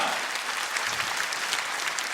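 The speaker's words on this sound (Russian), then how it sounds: "Аплодисменты!" An audience at a concert in the Kremlin marking twenty years of Ingushetia applauds in a steady, dense wash of clapping, moderately loud and sustained throughout the short span.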